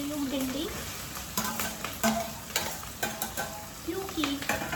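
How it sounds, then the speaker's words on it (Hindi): Okra fries in a pan with ginger paste and green chillies, a continuous sizzle broken by regular close stirring scrapes and knocks, with no onion or garlic added. "इसके तुरंत बाद मैं ऐड कर रही हूँ भिंडी"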